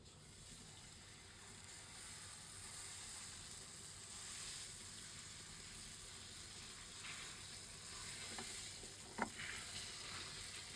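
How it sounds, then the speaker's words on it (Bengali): Hilsa fish frying slowly in mustard oil, a soft, even sizzle heard from a short distance, with a few faint clinks and a small knock near the end. "আস্তে আস্তে মাছটা ভাজা হোক"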